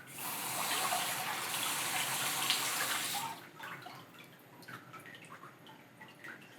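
Water sprays onto a hydrographics-coated part in a steady close hiss for about three seconds, then stops, leaving faint scattered drips and trickles as it beads off.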